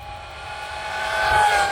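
A cheap brushless Arrma Fury RC car at full throttle, a rising high-pitched electric motor whine that swells louder over the short pass.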